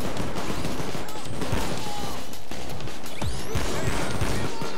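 Spaz 12 shotgun blasting in Payday 2 during a Hoxton Breakout heist, several heavy booming shots amid a dense, busy barrage of game noise, with a voice faintly underneath.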